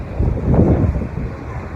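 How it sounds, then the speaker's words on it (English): Wind blows outdoors at night, buffeting the microphone in a low, rumbling gust that swells and then eases slightly, close and fairly loud, with no talking. "Oh, windy out here."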